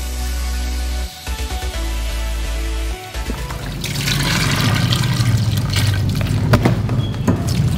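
Water pours steadily over boiled beef offal, lung pieces rinsed after about three minutes of boiling, a continuous close splashing that starts partway through and follows a low humming background.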